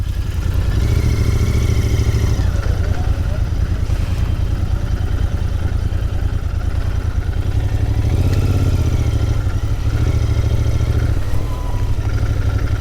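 Several motorcycles idle and rev in a busy car park at a rider assessment venue, a steady loud engine rumble throughout with swelling revs as bikes arrive and pass close by.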